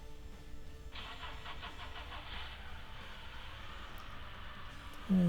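A rebuilt car engine cranks and then catches on its first start, a quiet rhythmic starter whir followed by the engine firing into a louder idle at the end.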